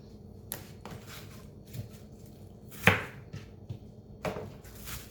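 A knife chops carrots on a cutting board in an irregular series of light knocks and taps, with one louder strike in the middle, in a quiet kitchen.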